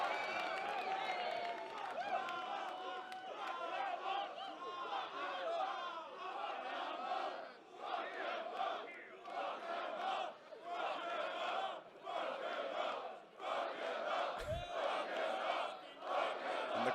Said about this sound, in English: Crowd making their intentions clear.